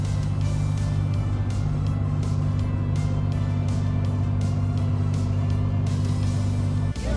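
Pontiac Fiero driving along a road, with a steady loud engine drone and road rumble throughout, heard from inside the car with no talking.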